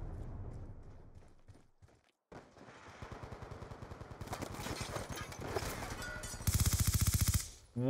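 Gunfire in Call of Duty, several bursts of rapid automatic shots that build in intensity, a short gap, then a long sustained stream of fire, loud and close, ending in a sharp dense volley.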